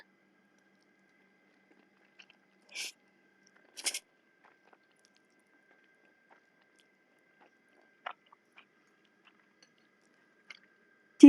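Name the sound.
chewing food while eating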